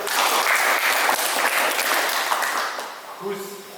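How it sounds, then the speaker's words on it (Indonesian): Classroom applause for a student group after their presentation at a vocational high school, dense clapping that fades toward the end as a voice begins speaking. "Tepuk tangan buat kelompok B."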